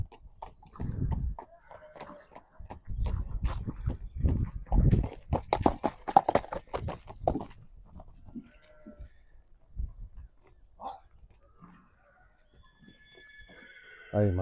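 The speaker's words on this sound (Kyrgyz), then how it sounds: "Европа жылкысы 3 жаш." A three-year-old European horse clip-clopping on its hooves nearby, irregular clusters of hoof strikes rising and fading, with a brief whinny-like call near the end.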